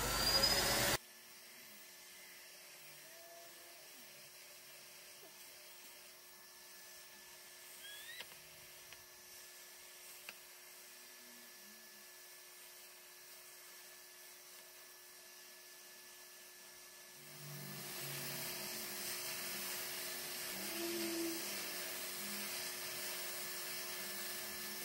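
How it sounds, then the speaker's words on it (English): A 2005 Dyson DC21 Motorhead vacuum cleaner hums steadily with a constant motor whine through the whole stretch, growing louder and rougher near the end as it works on a surface, with no one talking. "I think that this Dyson probably has more just pure suction than the Rainbow does."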